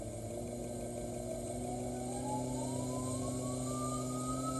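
An e-bike's pedal-assist motor hums steadily at about 50 rpm pedal cadence, a close, quiet electric whine that rises gradually in pitch as it spins up, with no voices.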